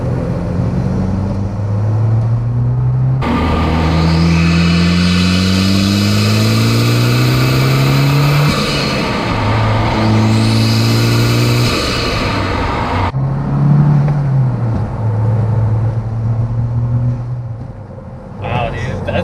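Mazda Speed 6 accelerating at full throttle in 6th gear from about 40 mph and low revs, a loud steady engine drone with rising harmonic tones and turbo whine, continuous throughout, with voices talking over it near the end.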